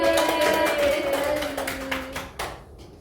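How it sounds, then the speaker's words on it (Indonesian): A classroom of fourth-grade pupils claps for group 2: a brief burst of many hands clapping together, moderately loud, with tonal sounds beneath that fade out after a few seconds. "tepuk tangan dulu untuk kelompok 2"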